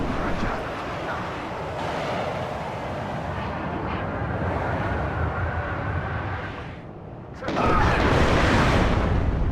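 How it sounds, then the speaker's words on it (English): Aircraft bombs explode in the WARNO war game as a Buccaneer releases its load, a sustained rumbling roar of blasts and engine noise that dips briefly before a loud, sharp burst near the end. "Watch this release its bombs."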